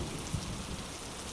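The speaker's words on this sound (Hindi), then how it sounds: "बारिश अब भी तेज हो रही थी" Heavy rain pours down in a steady, dense hiss with no breaks, fairly faint and heard on its own for little more than a second.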